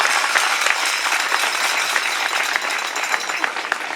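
Steady, dense applause from a crowd honoring a state champion baseball team, many hands clapping continuously throughout without pause.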